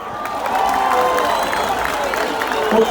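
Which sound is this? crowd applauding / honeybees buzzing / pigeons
crowd applauding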